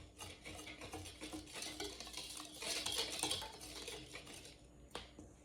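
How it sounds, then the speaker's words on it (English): Dry waffle ingredients being stirred together in a bowl, a steady close scraping and clinking of utensil against the bowl that swells in the middle and ends with a sharper knock. "I'm just going to mix this all together. This is all the dry ingredients."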